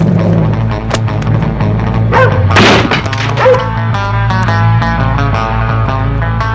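A dog barks a few times in a film trailer, the short barks loud and close over a continuous music score with some thumping hits.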